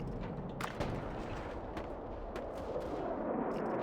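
Tank cannon and battlefield gunfire in a World War II real-time strategy game, a dense continuous rumble of blasts and sharp cracks with several louder shots standing out.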